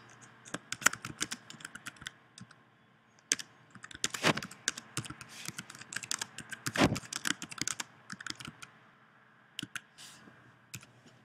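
Typing on a computer keyboard: uneven bursts of close, crisp key clicks with short pauses between them, with a few louder taps mixed in.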